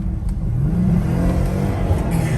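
A supercharged Jeep Gladiator Rubicon Apex edition revving hard, with a throaty engine note and a rising supercharger whine sounding loud and close in one continuous burst.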